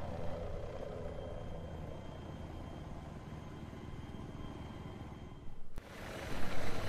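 A helicopter in Battlefield 3 holds a steady, loud rotor and engine roar throughout, with a sharp shift near the end as the drone swells louder and rougher.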